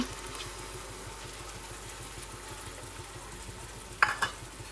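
Tomato paste added to sautéing onions in a pan, sizzling steadily under stirring, with a brief louder clatter of a utensil near the end.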